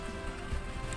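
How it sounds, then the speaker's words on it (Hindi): Heavy monsoon rain in Pithoragarh, a dense, steady patter of drops hitting surfaces, moderately loud and continuous through the short moment. "पिथौरागढ़ में झमाझम बारिश"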